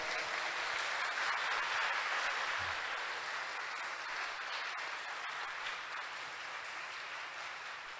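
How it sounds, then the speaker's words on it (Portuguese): A church congregation applauds at an Epiphany Mass, a steady, dense wash of many hands clapping that holds for the full stretch, loud at first and easing slightly toward the end. "Não merecem uma salva de palmas mais forte?"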